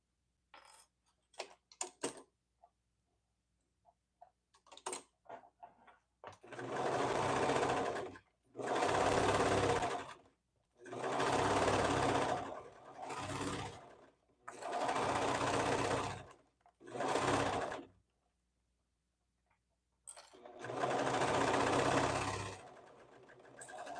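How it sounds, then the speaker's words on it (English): A sewing machine stitching the legs of a pair of leggings runs in six steady bursts of several seconds each, with short pauses and faint handling clicks between them, close and fairly loud. "So I'm about to sew the legs."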